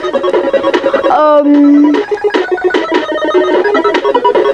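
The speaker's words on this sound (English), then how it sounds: "The sound of the Commodore 64 is still a bit pumping." Commodore 64 chiptune music: a bright, beeping melody with quick arpeggiated notes and a sliding tone in the middle, loud and busy throughout.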